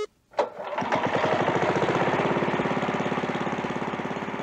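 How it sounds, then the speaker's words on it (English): A 1946 Easy Spin engine catches after a brief pull, then settles into a steady, fast chugging run with a regular pulsing beat, loud and close, with no one talking. "And now to actually start this easy spin engine."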